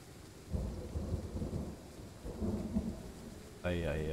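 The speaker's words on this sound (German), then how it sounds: "Eieiei, dieses bedrohliche Donnern." Low rumbling thunder rolls twice through a stormy scene in the train driving game Train Sim World 3, with rain hissing underneath, followed by a sudden steady tonal hum near the end.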